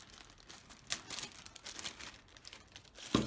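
Plastic bag crinkling up close in irregular bursts as it is taken from a drone's box, with a sharper rustle at the very end.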